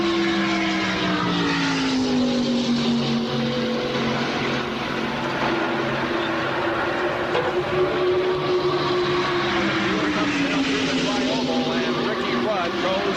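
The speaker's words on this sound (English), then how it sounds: "And let's listen to the cars." NASCAR stock cars racing in the 1991 Winston 500 fill the air with a loud, continuous engine roar whose pitch slowly rises and falls as the field passes, with a voice talking over it.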